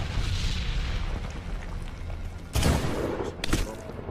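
Blast wiping out a mortar crew in a night-vision sniper video game, two sharp broadband bursts close together standing out from a low rumbling background.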